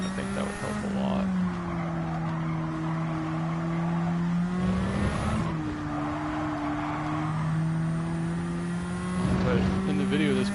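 A Nissan S15 Silvia race car in a video game holds a steady, buzzy engine drone at high revs, dipping briefly midway as if shifting or lifting, with tyre noise under continuous play and no talk.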